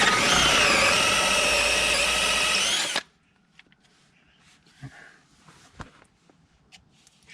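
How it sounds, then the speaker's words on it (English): A power drill whines loudly and steadily for about three seconds on seized brake screws of a Honda Civic EK3, then cuts out, leaving faint clicks and rustling handling noises. "we're going with the drill approach"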